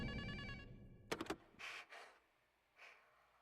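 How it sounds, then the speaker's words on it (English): A telephone rings in a game trailer in a quick burst of bright ringing near the start, then fades into quieter, scattered sounds. "Could someone get the phone, please?"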